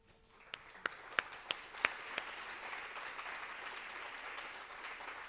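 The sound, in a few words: audience applause for the Swissnex team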